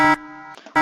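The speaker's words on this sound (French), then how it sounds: "il y a une alarme dans le spawn, il y a un modo qui a mis une alarme" An alarm placed at the spawn in a video game sounds a loud, harsh buzzing tone that cuts out briefly, then returns just as strong.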